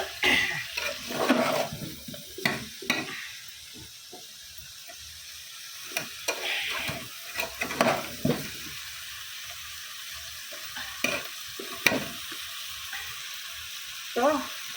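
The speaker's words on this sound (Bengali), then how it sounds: "কষা হোক, কষা হলে টমেটো ধনে পাতা সব দিয়ে দিয়েছি, কষা হচ্ছে" Chicken cooked with tomato, coriander leaves, cumin and ginger paste sizzles in a pan as a spoon stirs and scrapes in irregular bursts, close and fairly loud, with a few faint sounds of talking in between.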